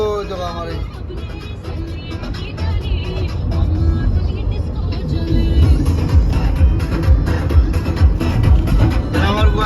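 A car's steady low road rumble runs throughout as it drives along a road, with people talking over it.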